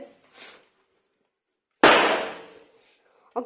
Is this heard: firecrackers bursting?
yes